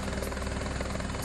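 A helicopter flies during a flood rescue operation, its rotor drone loud, steady and close throughout, with no voices.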